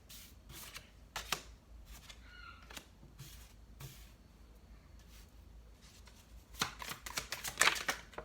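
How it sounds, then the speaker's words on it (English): Tarot cards are shuffled in repeated quick riffling bursts, close and fairly quiet, growing busier and louder toward the end. "This will be our last shuffle."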